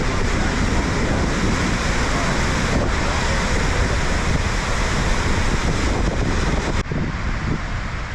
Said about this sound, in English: At least get under the waterfall.